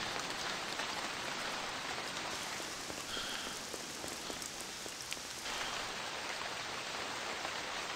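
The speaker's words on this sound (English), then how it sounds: "Daytime too, and it's raining." Steady rain falling in the video game Tom Clancy's Ghost Recon, a dense, even patter of drops on surfaces throughout the clip, with faint ticking sounds in the middle.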